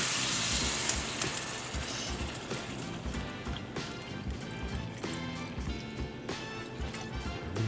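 Beef broth pours into a pan of pasta and ground beef for homemade hamburger helper, a steady continuous liquid rush with faint splashing and bubbling, fairly close and without talk.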